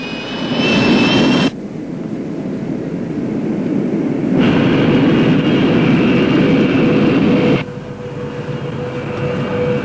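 A Concorde jet rolls for takeoff at Dulles, a loud, steady broadband roar that shifts in intensity partway through and carries on unbroken to the end.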